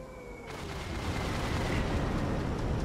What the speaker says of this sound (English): The explosions were up there.